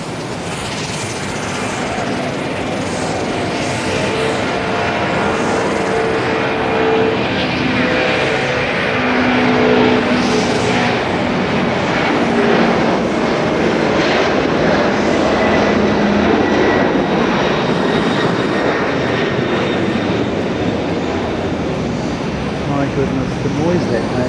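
A jet airliner takes off at Haneda airport with a loud, sustained engine roar that builds and holds as it climbs, broad and continuous throughout.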